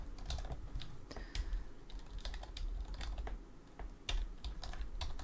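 Fingers typing on a computer keyboard while designing a bookmark, a steady run of close, quick key clicks in irregular bursts with a low hum underneath.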